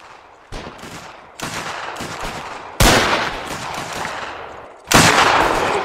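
Rapid bursts of rifle and machine-gun fire crack loudly in a Mount & Blade multiplayer battle set in the Anglo-Boer War, with several sharp volleys hitting hard on top of a steady crackle of shots.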